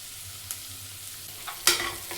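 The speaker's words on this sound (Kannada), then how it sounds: "ಸ್ವಲ್ಪ ಈರುಳ್ಳಿ ಫ್ರೈ ಆಗಲಿ." Onions deep frying in oil for egg biryani, a soft steady sizzle with a couple of sharper clatters of stirring, close and moderately quiet with no talk.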